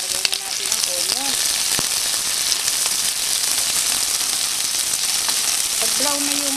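Garlic sizzles steadily in a hot oil-filled wok, a loud continuous frying hiss with faint background tones.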